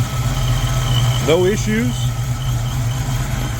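A supercharged 1995 Ford Mustang GT engine idles steadily at close range with a deep, constant rumble throughout, while someone speaks briefly over it.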